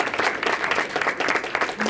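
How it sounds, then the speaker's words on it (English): Audience applause at an accelerator demo day event, a dense steady wash of many hands clapping at once that holds evenly throughout, close and full with no one speaking over it. "Can we all give him a huge round of applause?"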